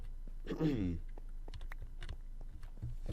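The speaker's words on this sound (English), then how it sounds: "My keyboard's probably really loud as well." Typing on a loud computer keyboard during a Minecraft play session, heard as scattered close clicks after a brief burst of nearby speech.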